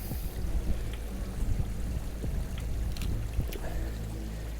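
Creek water flows steadily outdoors near fallen trees, a continuous broad rushing wash with faint wind, close and fairly loud, with no clear voices.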